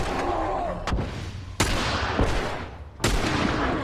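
Gunfire in The Last of Us on PC, with three sharp, booming shots spaced about a second apart over a dense, constant bed of game ambience and music.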